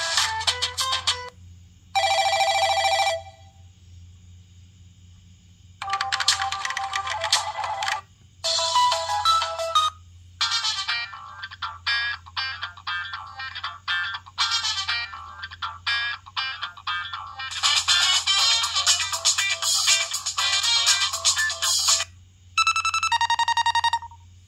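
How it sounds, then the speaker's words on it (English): A series of electronic mobile phone ringtones plays one after another, each a short bright melody or beeping tune separated by brief pauses. "These are some of the ringtones it came with."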